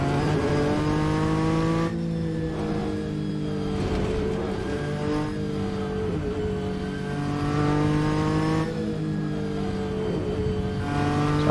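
A Nissan Skyline BNR34 JGTC race car at Suzuka Circuit, its engine droning loud and close with strong harmonic tones that rise and dip through gear changes and throttle lifts.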